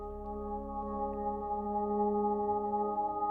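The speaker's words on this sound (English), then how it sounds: "This is the sound of a copper beech tree." Steady sustained synth-like tones with several stacked harmonic lines hold evenly throughout, plant-generated music produced from a copper beech tree, moderately quiet with no talking.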